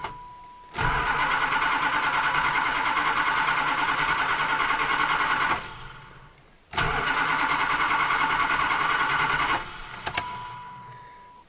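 An old Chrysler barn-find car cranking over on its starter in two long bursts of several seconds each, a fast mechanical whirr with a pause between attempts, close and loud with no talk.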